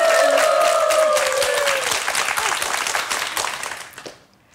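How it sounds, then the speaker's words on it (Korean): A studio audience on a Korean TV show bursts into sustained, dense applause over a fading musical tone, then the clapping thins and stops abruptly near the end. "박수로 청해 주시죠."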